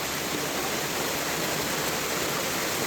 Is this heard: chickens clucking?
no